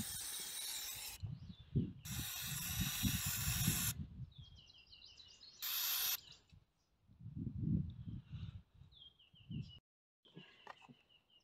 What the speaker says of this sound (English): now I'm just using some brake and parts cleaner to clean it up some more